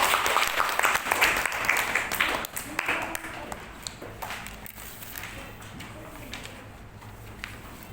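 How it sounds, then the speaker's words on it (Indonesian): Applause from a primary school class of fifth graders at the end of a lesson, a dense patter of clapping that fades over several seconds while a teacher's voice and children's chatter carry on beneath it. "tepuk tangan buat kita semua ya"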